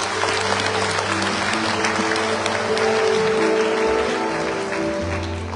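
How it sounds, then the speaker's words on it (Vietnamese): An audience applauds at the opening ceremony of a Buddhist retreat at a lotus dharma center in Oslo, Norway. The clapping is full and steady, runs loud for the whole stretch and eases slightly at the end, with no talking over it. "Xin quý vị một tràng pháo tay."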